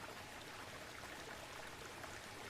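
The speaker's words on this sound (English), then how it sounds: "Imagine the water's journey flowing effortlessly over rocks and down into the pool" Waterfall spilling over rocks into a pool, a faint, even hiss of flowing water with soft trickling and splashing throughout, no voices.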